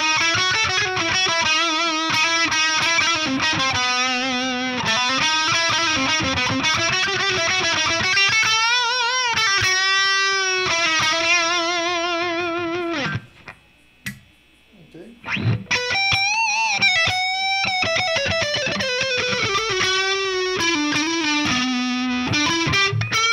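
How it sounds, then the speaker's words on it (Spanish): Distorted electric guitar solo through a Boss Katana 100 amp on its brown channel with reverb added, loud and sustained with bending, vibrato-laden notes, a brief near-silent pause midway, then more lead phrases. "El sonido brown lo uso por lo general para solear un poco y voy a ponerle un poco de reverb"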